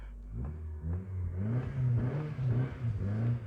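A 1998 Toyota Camry demolition derby car with its rear muffler removed revs in first gear, a loud, throaty engine note rising and falling through several pulls, close by and without talk.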